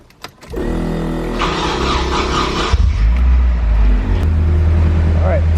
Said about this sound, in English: let me start up the car